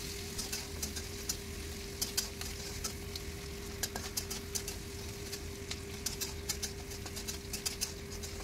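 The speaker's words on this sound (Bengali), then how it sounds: "পেঁয়াজটা লাল লাল করে ভাজছি।" Onions frying in oil with bay leaf in a home kitchen, a steady soft sizzle broken by scattered light clicks of stirring throughout, with a faint constant hum underneath.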